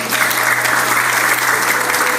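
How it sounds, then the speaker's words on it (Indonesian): Dense, steady applause from an audience at a motivational talk, loud and continuous throughout with no voices over it. "Tepuk tangan untuk kita."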